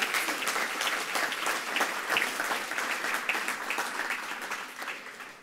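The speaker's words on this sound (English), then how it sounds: "round of applause again." A conference audience at an anti-corruption opening session gives a sustained round of applause, dense and steady for several seconds, loud and close with no talking.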